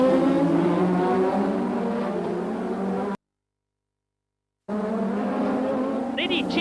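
A Formula One car at the 1987 Detroit Grand Prix locks its brakes, its engine note roaring loud and close before cutting to a sudden silent gap, then returning with high squealing tones near the end.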